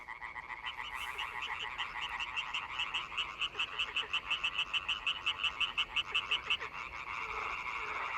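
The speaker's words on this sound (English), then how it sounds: "a great polyphonic chorus of amphibians who sing at night until the morning" Male frogs chorus at night, a dense run of rapid, pulsing croaks repeating steadily through the middle, moderately loud against a soft background hiss of other callers.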